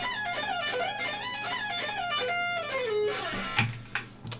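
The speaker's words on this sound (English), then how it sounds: "So this is similar to the sweep picking" Quick electric guitar lick, a two-string sweep-picked run cascading downward before a slide, then a few sharp picked accents; played alone, fairly quiet and close.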